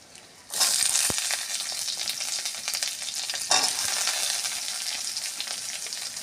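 Potatoes and green chillies hit hot oil with fried onions, bursting into a loud steady sizzle that holds throughout, with a brief clatter of stirring near the start and another mid-way.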